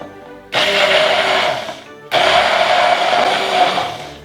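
A kitchen blender premixes mustard with a little oil for a mayonnaise-like sauce, running loudly in two close bursts with a brief pause between them and no talking.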